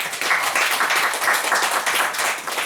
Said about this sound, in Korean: 힘찬 박수 보내겠습니다.